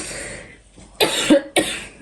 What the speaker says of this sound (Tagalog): Inuubo pa kami